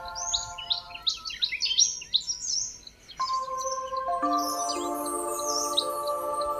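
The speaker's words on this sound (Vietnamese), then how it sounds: "và rất nhiều chim." Birds chirp and twitter around a hillside temple in Vietnam, several calls overlapping in quick bursts, fairly close and clear, with a faint steady tone running underneath and no talking.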